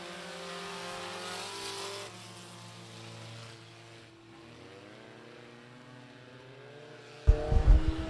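Race cars circle a short oval at Big O Speedway, a blended engine drone that swells and fades as the pack passes, with a sudden loud burst of near engine roar at the end.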